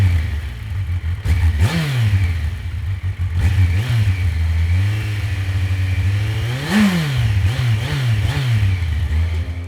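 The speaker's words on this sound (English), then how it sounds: "powering Verity is the 1043cc inline 4 with dual overhead cams and 16 valves." A 2022 Kawasaki Versys 1000 SE's 1043cc inline-four engine idles loudly, then blips through several quick rising and falling revs, with one longer, higher rev near the middle.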